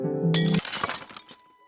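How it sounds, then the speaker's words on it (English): A crystal shatters in the Final Fantasy 5 video game: a tonal chime gives way to a loud, bright burst of breaking glass, with a scatter of tinkling fragments fading out over about a second. "The Water Crystal shatters."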